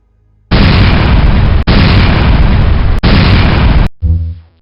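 Missiles slamming into a ship in the Harpoon naval warfare game: three long, very loud blasts, one after another, each cut off sharply, then a shorter rumbling tail.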